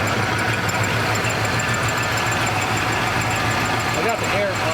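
A 1979 Ford Bronco engine idling up close, a steady loud mechanical rumble with a faint hiss and squeaky belt, running evenly throughout the clip.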